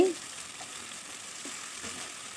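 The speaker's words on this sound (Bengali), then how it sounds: "এখন উল্টিয়ে ভেজে নিচ্ছি।" Flipped pieces of chhana (cottage cheese) fry in a pan, a soft, even sizzle of oil heard close after a brief knock at the start, quiet and steady throughout.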